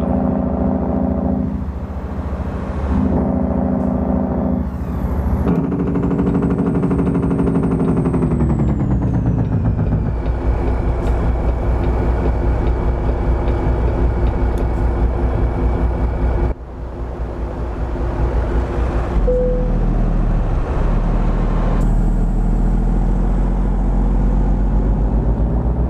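Kenworth truck engine in American Truck Simulator on a Colombian mountain route, a steady loud drone with shifting pitch and a high whine from the turbo, changing gears with brief dips, no talking.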